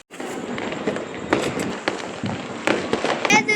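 Diwali firecrackers and fireworks crackle and pop in the distance, a dense continuous stream of crackling with sharper bursts scattered throughout, heard from a rooftop during the night celebration.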